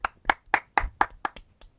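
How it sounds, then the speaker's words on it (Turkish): Hands clap about eight times in a steady, fairly quick rhythm, close and sharp with brief gaps between claps, alone with no talking. "alkışlıyoruz değil mi?"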